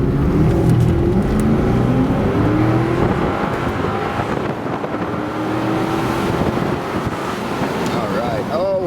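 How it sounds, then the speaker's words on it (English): A 2007 Cadillac XLR roadster is driven on the road, its engine and tire roar steady and loud with wind buffeting the microphone, while a person talks over it. "I'm having too much fun driving it, especially with all these bushes in the median."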